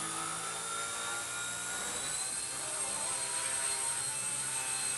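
Blade mCPX micro RC helicopter taking off near full throttle, a steady high-pitched whine of tiny rotors and motor, continuous and fairly close, slightly swelling toward the end with no talking.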